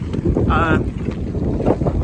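Strong wind on a hill buffets the microphone in a low, rumbling roar throughout, with a brief higher tonal sound near the start.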